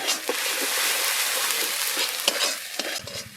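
Spice masala with ground cumin, coriander and salt fries in a pan for spicy flat beans, a dense close sizzle broken by a few scraping stirs of a spoon.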